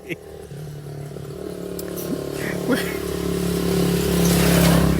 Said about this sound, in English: I thought there would be this many motorcycles passing by.